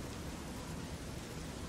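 Steady, even rain hiss from the Fallout 3 game world, a broad continuous wash with no talking over it.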